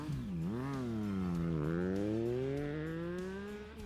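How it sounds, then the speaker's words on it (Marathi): Motorbike racing at high speed toward a finish line, its single engine note swelling and dipping in pitch as it revs hard, continuous and prominent with no voices. "पुन्हा बाईक रेस करत ती फिनिशिंग लाईनच्या दिशेने सुसाट वेगाने सुटली"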